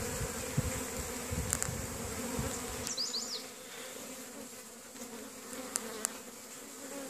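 Honeybees buzz steadily around an open beehive during hive inspection, a dense insect hum that continues throughout with faint outdoor background and no talking.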